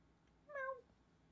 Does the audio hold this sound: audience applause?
no